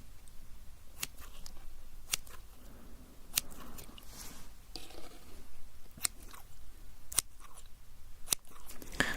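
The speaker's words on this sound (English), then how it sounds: "let me just very quickly get my scissors. I'm going to cut your eyebrows." Crisp snips of scissors close by, a dozen or so sharp cuts spaced irregularly over a faint rustling background.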